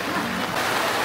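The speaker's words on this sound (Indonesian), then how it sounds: "Hujan keras guys." Heavy rain pouring outdoors at a cemetery, a dense, loud hiss of falling water.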